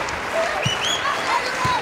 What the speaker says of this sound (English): UConn doing their part to keep the fans warm here as they're still standing to clap